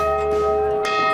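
A huge bell offered for sale at a shop rings loud and close with a sustained metallic tone. Its harmonic overtones ring throughout, and a second faint strike sounds near the end.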